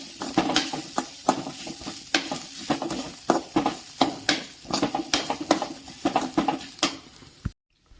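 Unnakaya filling with cardamom powder sautéed in a pan until it changes colour: close, rhythmic spoon scrapes and clacks over a steady sizzle, stopping briefly near the end.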